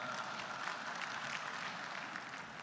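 Faint, distant applause, a soft continuous wash of clapping from a crowd at a conference of Indonesian city mayors in Makassar, holding steady throughout.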